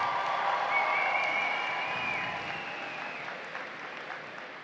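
Audience applause and cheering at a 2023 CRC awards ceremony, a dense steady wash of clapping with some shrill whistles, strongest at first and easing off slightly toward the end.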